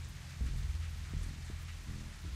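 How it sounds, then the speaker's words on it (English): Rain falls steadily in the video game The Walking Dead: 400 Days, a constant patter with a few low rumbles like distant thunder underneath. "Oh, the rain. Won't let up today."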